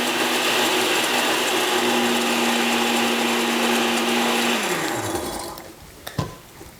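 Blender whirring loudly as it purees chili, onions and garlic for migas-style chilaquiles, a steady motor drone that winds down and stops near the end, followed by a couple of clunks.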